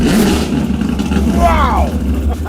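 A Shelby GT350 revs hard through canyon roads, a steady low engine drone with a brief rising rev sweep in the middle, close and loud.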